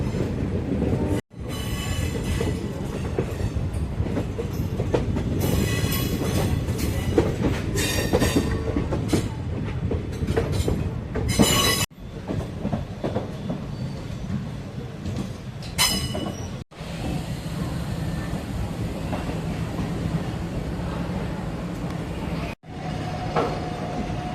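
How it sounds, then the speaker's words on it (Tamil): A train rumbles past up close at night entering Tiruchirappalli Junction railway station, steady heavy rolling noise with wheel clatter and brief squeals, a few abrupt cuts interrupting the continuous roar. "திருச்சி ரயில்வே ஸ்டேஷனுக்குள்ளே போகும்போது செம்ம கருவாச்சி ட்ரெயின் போகுது"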